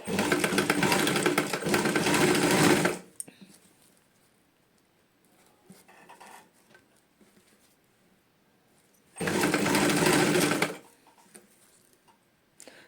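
A sewing machine stitches lace onto saree cloth. It runs in two loud bursts, about three seconds at the start and again near ten seconds, with quiet handling noise between them and no talk.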